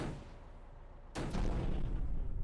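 A sudden heavy boom bursts out after a low rumble as a tank explodes in a tank war video game, followed by a sustained roaring blast and crackling debris, loud and close.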